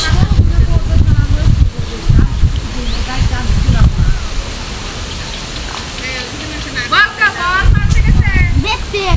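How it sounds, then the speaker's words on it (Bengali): Strong wind blows across a pond lined with trees, buffeting the microphone in heavy low rumbling gusts that come and go, while people talk over it. "প্রচন্ড বাতাস।"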